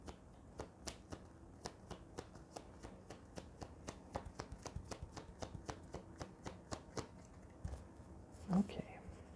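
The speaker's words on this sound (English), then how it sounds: "pull out some additional cards" Tarot cards being shuffled and drawn by hand, a long run of regular crisp card snaps and flutters, close and intimate, ending with a soft thump.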